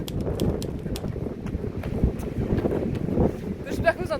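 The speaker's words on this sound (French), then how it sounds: "Le vent." Wind buffets a microphone outdoors during a race, a loud, gusty rumble with bursts and crackles throughout and a voice briefly heard.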